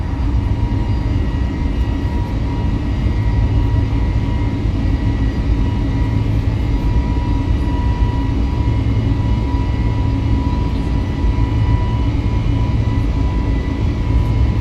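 An Airbus A320neo in Aegean Airlines livery takes off in Microsoft Flight Simulator, its engines producing a steady, loud, low roar and broad rumble that holds constant throughout.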